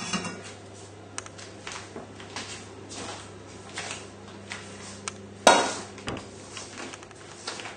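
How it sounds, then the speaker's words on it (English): Kitchen knife work with roast pork tenderloin on a work surface: scattered clicks and taps, with one sharp, loud knock about two-thirds of the way through, over a low steady hum and no talk. "all we need to do now is just chop up the pork and plate up"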